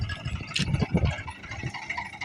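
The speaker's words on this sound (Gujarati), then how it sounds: "અમારું ટ્રેક્ટર આવી ગયું છે" A tractor's diesel engine idles nearby at a cotton field with a low, uneven rumble and rattling knocks, irregular thumps rising and falling over a couple of seconds.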